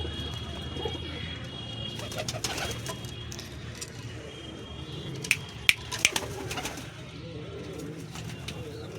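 Ringed pet pigeons in a loft coo in low, rolling murmurs with occasional sharp clicks and scuffles, fairly close, under a man's intermittent speech.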